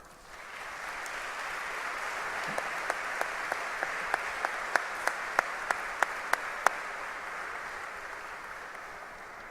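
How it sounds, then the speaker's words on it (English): A graduation audience at a high school ceremony applauds steadily in a large hall, a dense sustained wash of clapping with a few sharper individual claps standing out near the end. "a well-deserved round of applause to you all"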